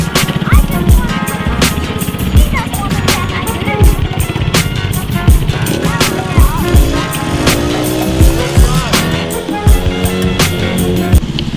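A small 5 horsepower go-kart engine runs steadily up close with a buzzing drone and rising, falling pitch sweeps as the throttle changes, with children's and adults' voices chattering over it throughout.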